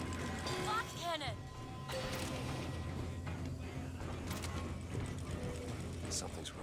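Machinery lowering pods in the Bioshock Infinite video game grinds and ratchets continuously, with creaking metallic gears under a dense wash of game sound.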